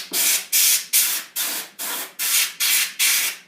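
Compressed air sprayed into a computer's fan opening to clear dust, in eight short, sharp hissing bursts in a steady rhythm, close and fairly loud.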